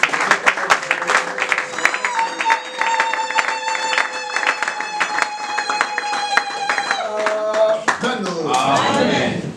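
A church congregation at a special evening celebration applauds, with rhythmic clapping mixed with sustained keyboard chords and singing voices, a lively, dense crowd sound that fades near the end.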